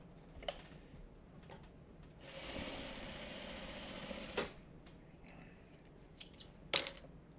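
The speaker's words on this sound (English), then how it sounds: "I can start sewing these parts together" A sewing machine joins quilt block pieces together in a short steady burst of close mechanical whirring. Quiet room tone and a few small clicks and taps come before and after it.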